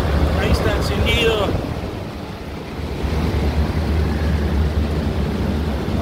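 A chiller unit runs steadily right after being switched on, giving a continuous broadband roar over a deep low hum that holds at an even level throughout.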